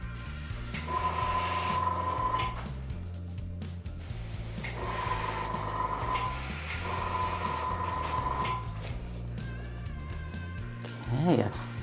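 Short hissing airbrush bursts spray black body paint onto a face, repeating several times over a steady background hum, close and moderately loud.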